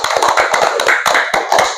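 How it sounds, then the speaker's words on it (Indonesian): Children in a classroom clapping their hands during a lesson, a quick run of sharp, fairly loud claps in an uneven rhythm that keeps going without pause. "Tepuk tangan untuk Rama."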